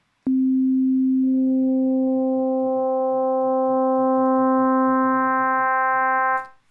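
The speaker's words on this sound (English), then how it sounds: "You can see I added overtones and the timbre changed." A synthesizer sustains a single steady sine tone, then overtone sine waves are stacked on one by one, brightening the timbre into a rich, buzzy chord-like tone before it cuts off; no voices.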